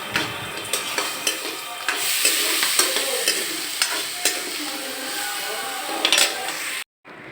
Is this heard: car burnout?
no